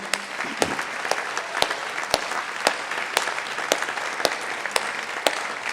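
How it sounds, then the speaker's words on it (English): An audience at a Squamish all-candidates election meeting applauds the candidates, a steady wash of crowd clapping punctuated by sharp, evenly spaced louder claps roughly every half second throughout. "How about a big hand of applause for all the candidates that are here tonight?"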